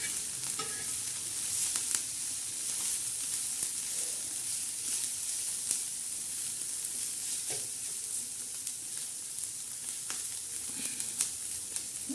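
Dried fish chutney (sukat) frying until crisp in a pan while being stirred, with a steady close sizzle and occasional scraping clinks of a spoon against the pan throughout, no voices.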